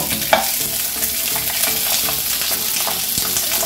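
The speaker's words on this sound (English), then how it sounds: "I've already got some oil heating. I'm going to take my patties and put them in here. Woo, so they can start to get brown." Beef patties fry in hot oil in a skillet, a steady loud sizzle and crackle running throughout with a sharp pop near the start.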